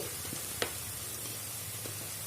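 Chili, turmeric, garam masala and coriander powders sautéing in a pan for soya chunks kurma make a soft, steady sizzle. A few light stirring clicks from a spoon stand out, and no one speaks.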